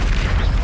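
A Bombarda blasting spell exploding in the Hogwarts Legacy video game, a brief, dense, loud boom with a heavy low rumble lasting under a second.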